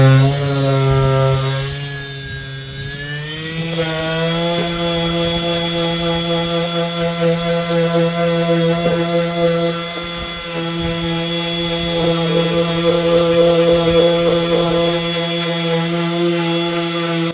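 A Parkside Performance 20V cordless sheet sander runs steadily at close range with a constant motor whine and buzzing vibration, and a brief change in tone occurs as it starts working the surface.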